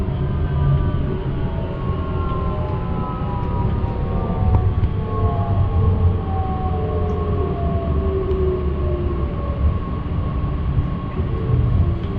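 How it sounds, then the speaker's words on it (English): An S-Bahn train rumbles steadily as it arrives at Lüssow station, with drawn-out tonal whines from wheels or brakes gliding through the mix, a continuous rail sound at moderate loudness. "in a second we can also hear our train at the station of Lüssow"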